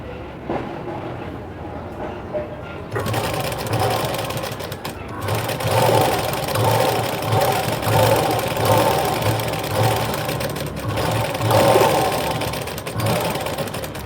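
A sewing machine runs a long basting stitch through a blouse, whirring rapidly and rhythmically up close after a quiet start, with a brief pause and then continued steady stitching.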